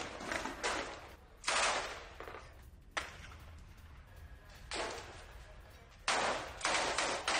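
Bursts of gunfire during an IDF ground operation among buildings in southern Gaza: several loud, sharp volleys and rapid strings of shots, separated by quieter gaps with distant crackling.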